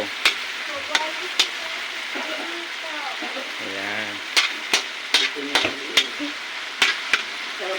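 Onions and tomatoes sizzle steadily in a hot frying pan while a utensil clacks and scrapes against it in irregular bursts; a voice speaks briefly.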